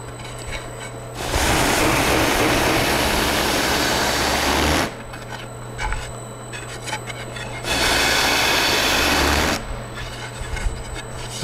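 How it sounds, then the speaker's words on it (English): An Opti-Sand EasySand 224 sander motor runs in two loud, steady bursts of a few seconds each, with quieter pauses between and after them. "We'll start the motor up"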